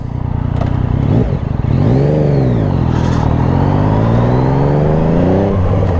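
A Yamaha XSR900 motorcycle engine in sport mode revs up and down repeatedly, rising and falling in pitch, loud and close with no talking.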